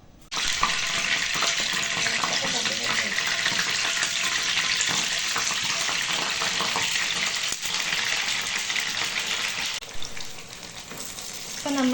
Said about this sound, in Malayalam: ഇത് നല്ലപോലെ ഒരു ഗോൾഡൻ ബ്രൗൺ കളർ ആവുന്ന വരെ വറുത്തെടുക്കാം